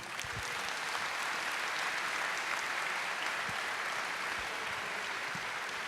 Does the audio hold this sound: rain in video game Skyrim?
no